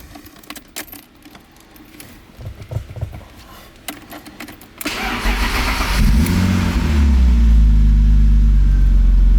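Clicks and rattling keys come first, then the engine of a JDM BMW E36 with a manual swap cranks and catches, settling into a loud, steady idle close by.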